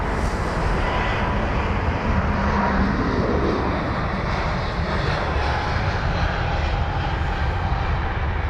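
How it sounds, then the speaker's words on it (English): A Brussels Airlines Airbus A320ceo taxis at London Heathrow to line up for departure, its jet engines producing a loud, continuous roar and hiss that holds steady throughout, with no voices over it. "Brussels Airlines 320 CEO looks to be the next aircraft rushing in to line up on the runway"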